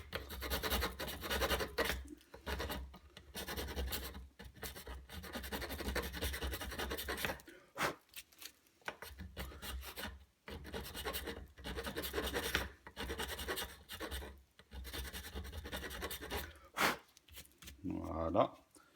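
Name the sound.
filing tin solder on a Bosch alternator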